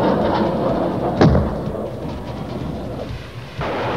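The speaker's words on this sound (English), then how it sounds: "The second Mirage aircraft is firing the Matra missile." A Matra missile launches from a Mirage aircraft with a sudden deep whoosh and thump, followed by a sustained distant rumbling roar that fades slightly before a second swell.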